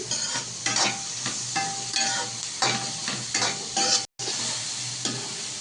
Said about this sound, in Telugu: ఇలా వేసుకున్న ఆనియన్స్ కొంచెం ఫ్రై అయ్యాక ఈ వెల్లుల్లి రిగ్గలను కూడా యాడ్ చేసుకోవాలి